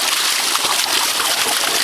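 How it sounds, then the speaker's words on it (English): Water flows steadily from a ram pump that has just been unstuck, giving a close, continuous broadband rush with small splashes and no pauses. "this water's flowing a lot better"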